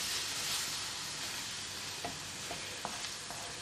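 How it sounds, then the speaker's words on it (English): Potato and cauliflower stirred into base gravy for a British Indian restaurant-style aloo gobi, a steady close sizzle of frying with a few soft scraping stirs of the spoon near the end. "Give that a stir."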